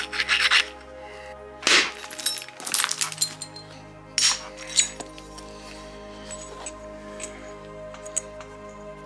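Stone flakes being struck from the edge of a knife blade during flintknapping, giving several sharp clicks and scraping rasps at irregular intervals, close by, with quiet pauses between strikes.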